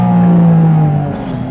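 Induction roar from a Porsche 718 Cayman GT4 RS, a mid-engined sports car driven on the road, as a loud steady engine drone whose pitch falls slightly as it eases off, with no talking.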